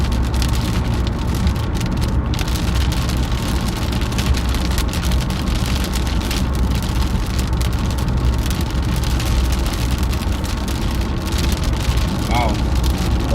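Thick raindrops falling steadily on a storm chase vehicle during a morning squall line in Michigan, a dense continuous patter with road and engine rumble underneath and people talking throughout.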